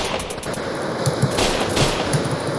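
Gunfire in the Roblox video game, a few sharp shots cracking over a busy, steady game soundscape, loud and close, with no talk.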